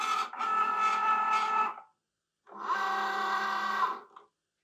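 A Cricut Joy cutting machine running while making Christmas cards, two close bursts of whirring motor and rollers, each lasting under two seconds and separated by a short silence.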